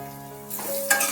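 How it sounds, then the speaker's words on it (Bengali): Cut potatoes drop into hot oil in a wok and a sudden loud hiss of frying bursts up. A second surge follows moments later, close and with no voices. "আমি এই তেলের মধ্যেই কিছু আলু, এইভাবে কেটে রাখা আলু আমি দিয়ে দিচ্ছি"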